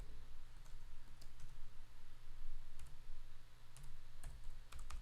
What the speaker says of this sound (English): The reason I typed that just now is not for dramatic effect